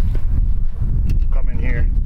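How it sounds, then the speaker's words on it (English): Strong outdoor wind buffets the microphone in a continuous low roar, with speech heard faintly under the gusts. "It's a little windy, you have to deal with it."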